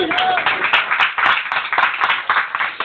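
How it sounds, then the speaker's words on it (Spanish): A church congregation claps in a dense, continuous burst of many hands, loud and close throughout, with a voice briefly audible over it. "Denle un aplauso a la iglesia del Señor"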